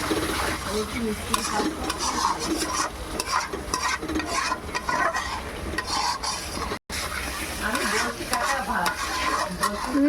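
Chicken and potatoes being stir-fried in a pan, a loud, close sizzle with constant scraping and clattering of a spatula against the pot, continuing without talk apart from a brief dropout.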